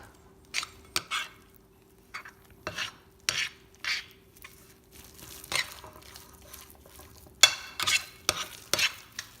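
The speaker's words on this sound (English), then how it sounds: "it can get real hard to stir any further, but you really want to incorporate the almond flour into the cheese" Almond flour worked into melted cheese for a keto fat head pizza dough, a spoon scraping and slapping through the thick mixture in irregular close strokes separated by brief pauses, no voices.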